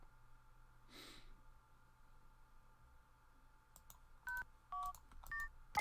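Telephone keypad tones in a Doctor Who video game: after a faint breathy sound, a quick run of short, close, distinct dialing beeps plays in uneven succession over a low steady hum.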